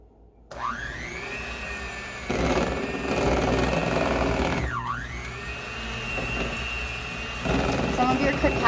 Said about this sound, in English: you do need a hand mixer in order to mix this together